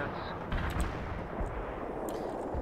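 Battlefield gunfire in the World in Conflict real-time strategy game, a dense distant rumble of shots and artillery with several sharper cracks standing out over a constant low roar.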